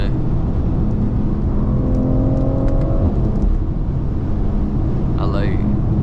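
A BMW X3 M's engine and sporty exhaust while driving through rush-hour traffic, a steady low drone with a brief rising rev in the middle, heard from inside the cabin, moderately loud.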